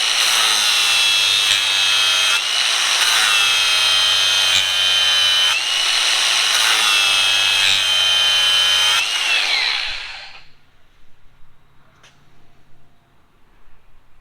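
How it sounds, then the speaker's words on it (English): A grinding wheel whines loudly and steadily against a John Deere Z930A zero-turn mower blade edge, removing the burr, for about ten seconds before the tool spins down and quiet room noise remains. "I'll run my wheel gently over this edge to take off that little burr on the bottom"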